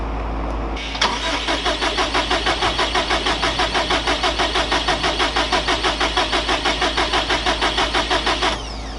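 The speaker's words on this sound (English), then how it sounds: "That starter sounds funny though." The starter of a Subaru GC8 with a swapped-in 2006 STI engine cranks in a fast, even rhythmic chug for about eight seconds without catching, loud and close, then cuts off.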